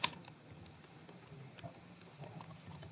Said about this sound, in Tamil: அங்கே டைப் பண்ண அதே ஹலோ வேர்ல்ட் ப்ரோக்ராமை இங்கே டைப் பண்ணுறேன்